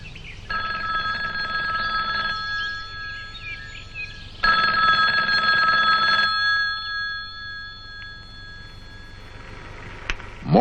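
An old telephone bell rings in two long bursts of several seconds each, with a pause between them, loud and close. A faint click follows near the end.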